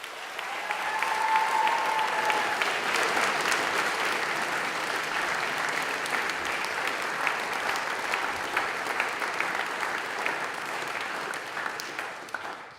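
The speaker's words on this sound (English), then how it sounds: "I think you deserve a huge round of applause" A school chapel congregation at Shawnigan Lake School gives a long, loud, sustained round of applause for student contributors, dense clapping holding steady before tapering at the end, with no talk over it.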